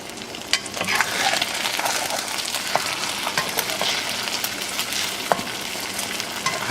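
Beef fried rice being stir-fried in a wok, a steady close sizzle with frequent sharp scrapes and clinks of the spatula against the pan, no voices.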